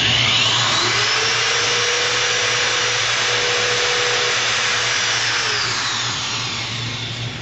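A power drill bores a pilot hole while building an optical tube assembly and mount, a loud steady whine holding for several seconds before tapering slightly, close with no talk.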